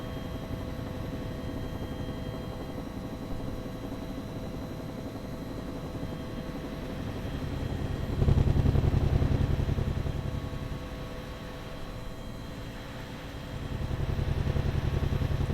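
Nimbus UH-1 Huey helicopter in X-Plane 11 flying over Las Vegas, a steady low rotor and turbine drone that swells louder midway and again near the end, with no talk.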